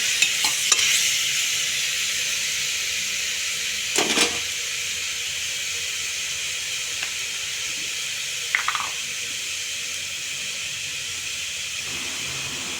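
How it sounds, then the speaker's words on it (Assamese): Pork frying in a pan, a steady close sizzle and hiss under brief clinks and scrapes of stirring, with no talking. "ভাজি লৈছোঁ"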